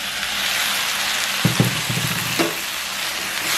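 Tomatoes sauté in a hot pan for a cuttlefish curry with a steady, loud sizzle. A few soft clunks of stirring break through near the middle.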